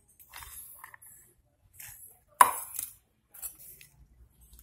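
Onions are chopped on a board for village egg paniyaram, a few soft, scattered knife cuts with one sharper, louder knock midway, close and otherwise quiet.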